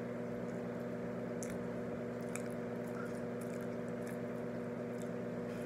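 Close-up chewing of pickle-flavored french fries dipped in cheese sauce, soft wet squishy bites over a steady background hum, no talking.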